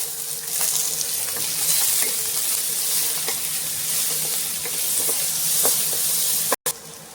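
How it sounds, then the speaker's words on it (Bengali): Chopped onion with a pinch of salt sizzles steadily in hot oil with bay leaf and a dried chilli, a close, continuous frying hiss broken by small pops, stirring scrapes and one brief clunk near the end. "তো পেঁয়াজটা অল্প নুন দিয়ে ভেজে নেব।"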